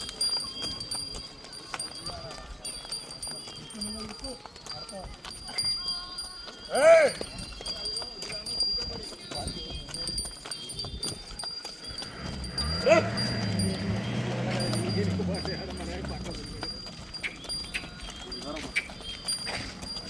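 A bull walks with hooves clopping on the ground at a bull sale, steady scattered steps under ongoing crowd chatter and voices.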